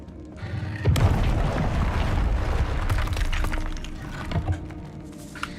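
A Confringo spell blast in Hogwarts Legacy: a sudden heavy boom followed by crackling, shattering debris that rumbles on and fades over a few seconds.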